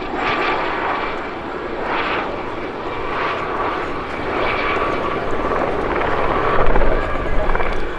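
A Gazelle helicopter flies at the Midlands Air Festival 2023, its loud turbine and rotor drone swelling in regular pulses as it passes, with a commentator talking over it.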